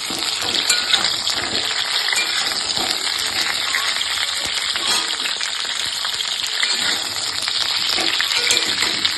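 Pointed gourd (potol) pieces frying in oil in a pan, a steady dense sizzle and crackle running continuously throughout at close range with no voices.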